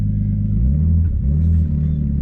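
A Nissan R32 Skyline with an RB25DET engine pulls away, its deep, close exhaust rumble swelling with revs, dipping briefly at a gear change, then rising again.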